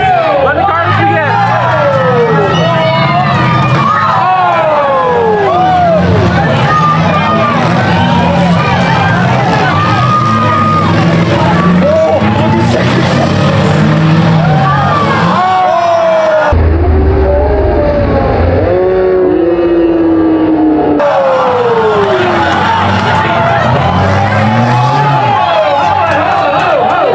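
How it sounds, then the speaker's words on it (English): Demolition derby cars at the Wallacetown Fair roar and rev continuously, engines whining up and down through repeated crashes, with a loud crowd cheering and people talking nearby throughout. "let the cars begin"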